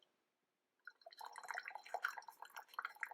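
Water pouring from an electric gooseneck kettle, splashing and breaking up as it lands. Silence for the first second, then a steady, close, bright splashing that runs to the end.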